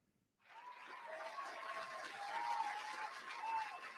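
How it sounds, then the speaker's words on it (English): Audience applause in a live show setting, a broad steady wash of clapping that swells in after a moment of quiet and holds loud and even throughout. "No, you keep going, but they're applauding."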